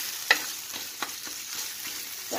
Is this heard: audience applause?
no